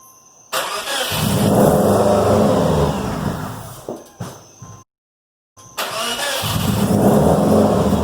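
A supercharged Subaru EJ257 boxer engine with an Eaton M90 blower, fitted in an Outback, cranks and fires for its first start, roaring loudly near the microphone, cutting out briefly, then catching again and running steadily.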